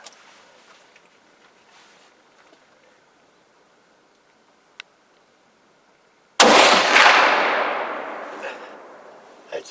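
A single sharp rifle shot during a deer hunt cracks loudly out of near silence, then booms and rolls away in a long fading echo.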